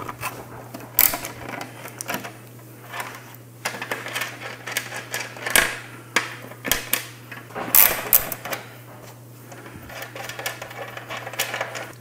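A 3/4 inch socket wrench breaking loose the fender bolts on a 2024 Harley touring bike, heard as a run of irregular metallic clicks and ratcheting over a steady low hum.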